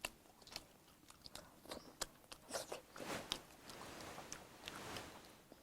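Crunchy cartilage on cheese-topped pork ribs being bitten and chewed up close, a series of irregular wet crunches and snaps without speech.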